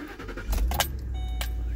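A Ford Expedition or F-150 engine cranks and catches, a short starter whir followed by a low steady idle rumble, close by with some faint clicks and jingling at the start.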